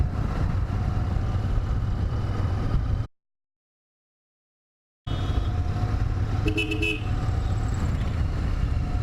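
A Royal Enfield Interceptor 650 motorcycle engine gives a steady low rumble amid road traffic, with a few short horn toots; the sound cuts out to complete silence for about two seconds in the middle, then resumes.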